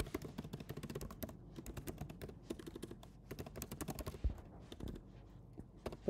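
Fast, steady typing on a computer keyboard, a dense run of light clicking keystrokes at close range with brief pauses, no talking.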